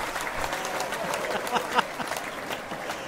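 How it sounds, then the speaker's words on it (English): A studio audience applauds a guest on a talk show, steady clapping that runs through the clip while voices talk over it. "Oh, good. The applause again."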